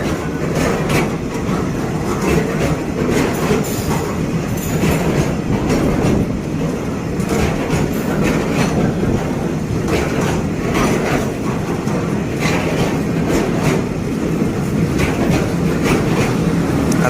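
A long freight train rolls past continuously at Kaeng Khoi Junction, Thailand, wheels clattering rhythmically on the rails with a steady rumble and occasional metallic squeals, loud and close.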